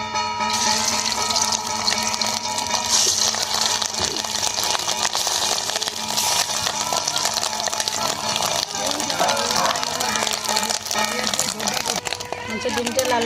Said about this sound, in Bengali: কড়ার মধ্যে তেল দিয়ে দেবো। মাছের ডিমগুলো ভেজে নেবো।